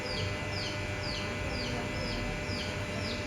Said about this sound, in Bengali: মুরগির মতন লাগছে দেখতে দুটো পাখি আছে